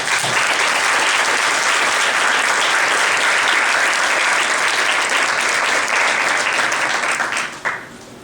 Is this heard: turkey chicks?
no